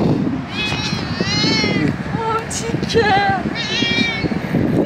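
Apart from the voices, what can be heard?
cat meowing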